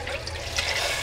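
Water pours steadily into a pot of potato and lentils over an onion and celery mix for a lentil, spinach and vegetable soup, a continuous close splashing trickle.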